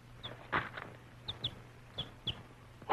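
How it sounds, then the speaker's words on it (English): Chicken clucking in short, soft, scattered calls, several separate clucks close by over a low hum. "A chicken."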